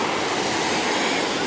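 Wind and surf at a crowded beach, a dense steady broadband wash of breaking waves and wind noise across the microphone, continuous and loud without distinct individual breakers.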